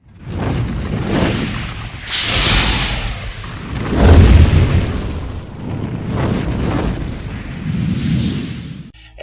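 Missiles strike in a Battlestar Galactica Deadlock space battle, a run of loud, heavy booms and rumbling blasts rolling one after another with no speech over them.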